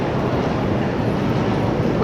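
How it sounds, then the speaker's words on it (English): A New York City subway train at a station gives a steady, loud, broadband rumble and roar that holds throughout, with no clear voices over it. "You guys hear the train, right?"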